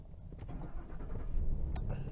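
A Ford Expedition Max Limited with 135,000 kilometres cranks and fires up, a brief starter whir rising into an idling engine, close by and without talk.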